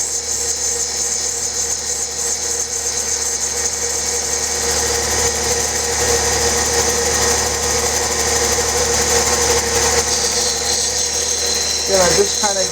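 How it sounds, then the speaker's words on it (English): A 220 grit lapidary wheel runs with a steady motorized hum and high whine while a stone is shaped against its curved edge, continuous and close, with a brief scraping flutter near the end. "I'm just using the curve of the wheel to put the flame curve into the stone"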